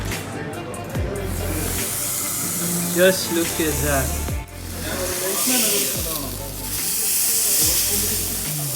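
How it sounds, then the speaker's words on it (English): Beef steak hissing and sizzling loudly on a hot rock, a steady spitting sizzle with someone talking over it. "let's see how it is going to sizzle on the hot rock."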